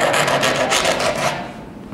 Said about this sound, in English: Then I just take a drywall jab saw just to cut the foam a little bit more.